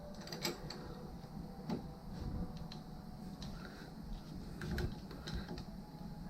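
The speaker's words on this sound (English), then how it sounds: "I hold the other side with a regular wrench, and we're going to tighten it up" Wrenches tighten a line fitting on a GE refrigerator water dispenser valve, with scattered metallic clicks, ticks and small scraping knocks close by over a low background rumble, no talk.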